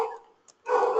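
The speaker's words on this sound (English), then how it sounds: "dogs." A dog barks in the background, with a loud burst at the start, a short faint yip in the middle and another louder stretch of barking at the end.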